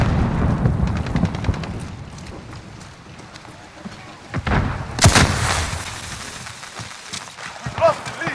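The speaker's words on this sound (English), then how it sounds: "Throwing grenade!" Gunfire and a grenade blast in a shooter video game: scattered shots with a sharp loud burst midway, later bangs following, under voiced game callouts.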